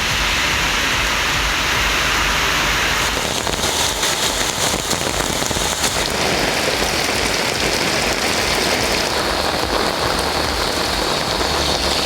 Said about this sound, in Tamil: கனமழை கொட்டி தீர்த்தது